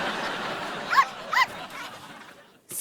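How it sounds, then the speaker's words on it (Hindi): A dog barks twice in quick succession indoors, short sharp yips standing out over a quiet room tone, close to the listener. "घर में एक कुत्ता है।"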